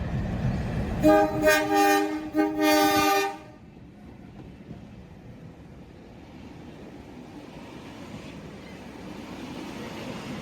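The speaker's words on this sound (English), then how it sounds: "4903 and 4836 are seen passing through the station with a picnic train service to Kiama" A train horn sounds in several loud blasts, and then a passenger train led by locomotives 4903 and 4836 keeps rumbling steadily through a station at a moderate distance.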